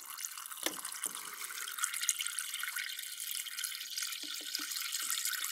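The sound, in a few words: adding tap water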